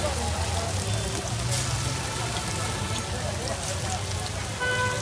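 Mutton tikka kebabs fry in oil at a roadside kebab stall, a steady crackling sizzle like rain on a surface that runs without pause, with faint street sounds and occasional voices around it.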